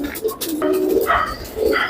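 Allahabadi flying pigeons kept at a loft in Jaipur coo and flutter close by in short soft bursts, with a dog-like bark or two and people talking nearby.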